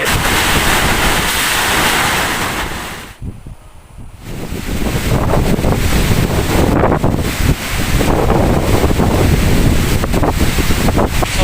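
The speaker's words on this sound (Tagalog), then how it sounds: "ang agi sa bagyo." Strong super typhoon wind roars into the microphone over crashing surf on Camotes Island, steady and loud with a brief lull partway through before the gusts return.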